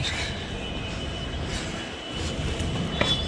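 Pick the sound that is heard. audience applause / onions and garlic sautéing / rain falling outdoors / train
train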